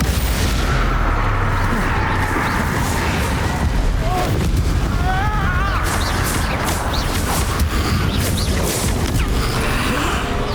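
Spell explosions from Bombarda and Confringo in Hogwarts Legacy rumble and crash continuously, loud and dense, with whooshing spell effects layered over a heavy, unbroken roar.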